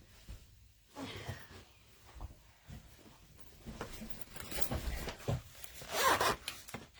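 The zipper on a pencil case is worked up and down close by, making several rasping pulls of varying length. Small handling rustles fill the gaps between pulls.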